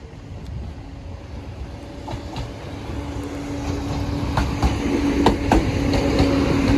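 A Class 37 train at Sleaford West level crossing rumbles in a low, steady roar that slowly grows louder as it approaches, with faint rail clicks.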